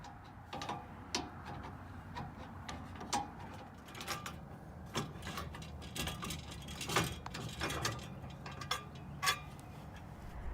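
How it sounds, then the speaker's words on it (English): Wrenches work loose the grill mount on an RV, making quiet, irregular metallic clicks and light clanks scattered across a soft background hum. "I'm going to go ahead and remove it with a couple wrenches and just take it off for the winter."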